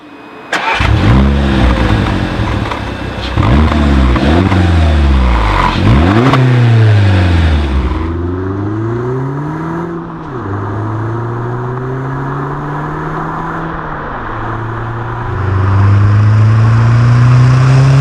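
An Audi A1 1.4 litre with a stainless steel Milltek cat-back exhaust revs hard and close, engine climbing and falling in repeated blips before settling into a lower idle and then rising again.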